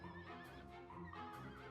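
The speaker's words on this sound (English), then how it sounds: "The horse is neighing, and Prince Charmles." A horse from the video game Dragon Quest VIII whinnies in a long, wavering, quavering neigh set against steady game music, loud and continuous throughout.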